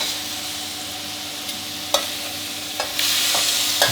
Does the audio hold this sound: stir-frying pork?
yes